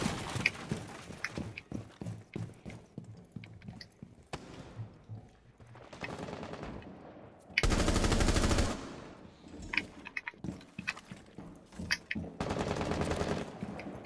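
Rainbow Six Siege gunfire crackles in rapid automatic bursts and single shots, with one long sustained volley in the middle, loud and close, with footsteps and game sounds around it.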